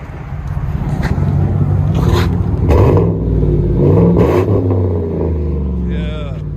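A 2015 Chevy Silverado with a 5.3L V8 and Carven TR-Series dual exhaust revs in steady, loud, rumbling pulls lasting several seconds, with a deep low throb under the engine noise.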